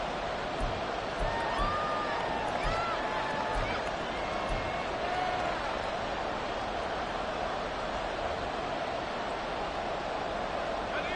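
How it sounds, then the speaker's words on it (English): Simulated stadium crowd in a Madden 24 football game between the Raiders and Broncos, a steady dense roar filling the whole clip, with a commentator's voice running over it. "Well, this crowd doing their best to make a lot of racket."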